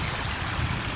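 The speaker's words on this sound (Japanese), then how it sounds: "川沿いですが、ここは渡るんですね。" A mountain stream flows beside a forest trail in Akitakata, Hiroshima, a brief, even rush of running water with no one talking.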